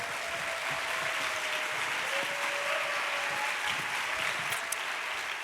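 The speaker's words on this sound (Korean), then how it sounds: "우리 박수로 모시겠습니다" A crowd claps steadily in a broad, even wash of applause filling a church hall during a young adults' worship service, sustained throughout without pause.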